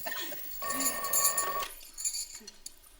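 An old-style telephone rings in an Egyptian home, a bright trilling bell that sounds in a burst, pauses, then sounds again, fairly loud and close with no talk over it.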